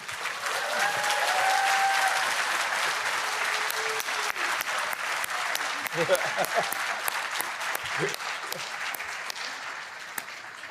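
An audience at a global community symposium applauds award winners, sustained broad clapping that swells early and continues steadily, with a few voices and brief cheers mixed in near the middle.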